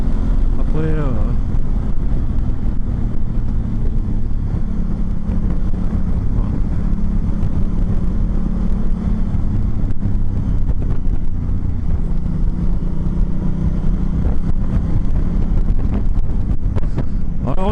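Wind roars and buffets steadily around a rider on a Honda Africa Twin with a DCT automatic gearbox, a loud continuous rush over the low engine drone, with a voice talking under it.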